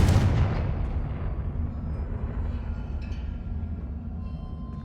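A Confringo explosion spell goes off in Hogwarts Legacy with a loud, sudden blast that booms at once, then rumbles and fades into a long low-frequency decay over several seconds.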